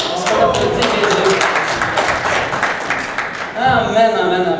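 Church congregation clapping for Jesus, dense and steady for several seconds, with voices talking over it near the end.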